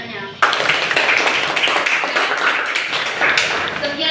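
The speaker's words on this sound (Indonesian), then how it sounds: "saya minta aplaus yang sebanyak-banyaknya" A crowd claps in applause at a morning community event, the steady dense clapping starting abruptly after a short pause and continuing loud and full throughout.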